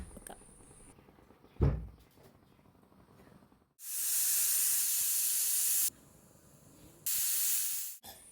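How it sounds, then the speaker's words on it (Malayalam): Pressure cooker on the stove venting steam while cooking a salted grain rice porridge, with two long loud hissing bursts and a shorter third one, set apart by quiet gaps and a brief soft knock. "ഇത് കുക്കറിൽ ഒരു 5-6 വിസിൽ വരേണ്ടി വരും."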